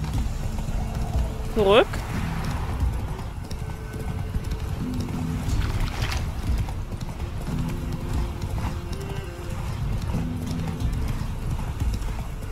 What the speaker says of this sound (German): Und deswegen reiten wir jetzt einmal direkt